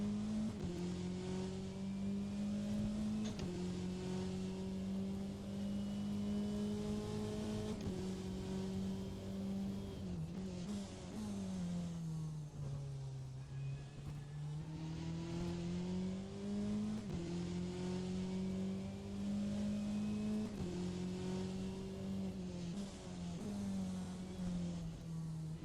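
Corvette GTE race car lapping Sebring in rFactor 2, its engine droning loud and close throughout, pitch rising and falling through gear changes as it brakes and accelerates around the circuit, with no voices.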